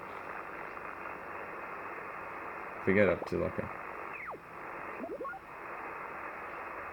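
Receiver audio from a Yaesu FT-707 ham radio, tapped from the IF after the filters, plays as a steady hiss with faint tonal warbles, while a person talks briefly over it in the middle.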